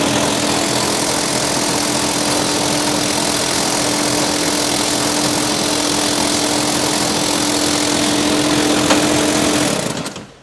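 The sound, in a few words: ChamberGuard spray system motor running when trigger squeezed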